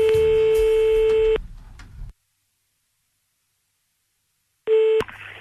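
Telephone line tones open a caller's connection on a French Skyrock late-night call-in radio show: a steady electronic tone holds for about a second and a half, then silence falls, and a second short tone sounds near the end.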